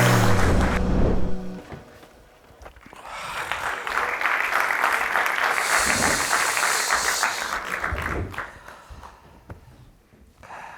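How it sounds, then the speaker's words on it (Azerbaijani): A studio audience at a comedy sketch show claps in a sustained burst of applause lasting several seconds, rising after a brief voice and fading out near the end. "Alqışlarınızla bu səhnəciyə başlayırıq dostlar"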